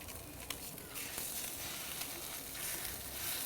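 Mackerel fillet laid skin side down on a very hot cast iron griddle over direct heat: a soft, steady hiss of sizzling with faint crackles and small pops, fairly quiet and unbroken, with no voices.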